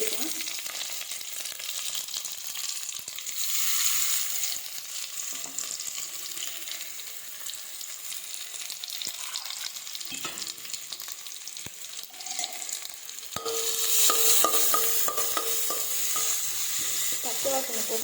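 Ginger garlic paste sautéing in a pan for a ghee fish curry: a continuous sizzle with scraping stirs throughout, swelling louder near the end, close and steady with no talk.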